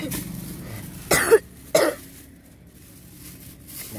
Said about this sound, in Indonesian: Gak boleh batuk-batuk.